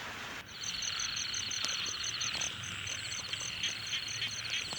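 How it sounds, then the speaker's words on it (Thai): Frogs croak in a dense, pulsing chorus in a rice field, steady and rhythmic against a quiet rural night background, with no talking. "ดูสิเสียงกบก็จะร้องแล้วครับ"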